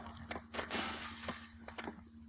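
Glass shatters in a video game as a cluster of bright crashing bursts and scattered tinkling breaks over a steady electronic hum.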